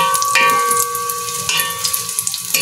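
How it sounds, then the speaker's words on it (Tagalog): Steady sizzling of frying food with metallic ringing clinks from a casserole pot while cooking crab in corn, a few sharp clatters close by. "Ang ingay ng ating kaserola, makalansing."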